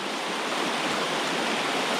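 River rapids near a stand-up paddleboard, a loud, continuous broadband roar of rushing whitewater that fills the whole scene without a break.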